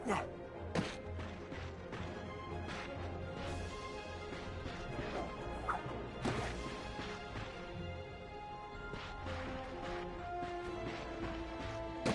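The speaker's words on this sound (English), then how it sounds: "Look at him smashing crates." Wooden crates being smashed in the video game Ratchet & Clank, a dense run of repeated crashing breaks and thuds over constant game music and effects, loud throughout.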